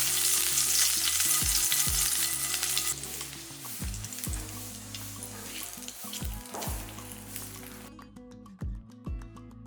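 Curry leaves are dropped into hot oil for a chutney and crackle and sizzle loudly in bursts, with stirring sounds underneath; the sizzle eases and goes quiet near the end.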